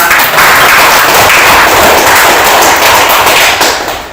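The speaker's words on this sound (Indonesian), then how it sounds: "Silakan kita kasih tepuk tangan untuk pelajaran kita." A classroom applauds after a lesson: dense, loud clapping from many hands sustained for about four seconds before tapering at the end, no speech over it.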